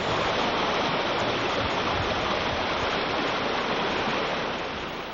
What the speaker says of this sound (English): there's still a lot of water running down the mountain